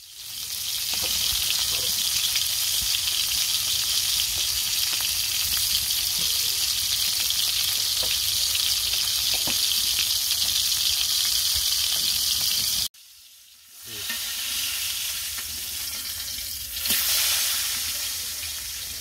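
Spice-coated fish frying in a pan gives a loud, steady, close sizzle that cuts out briefly near the end and then resumes, with no talking.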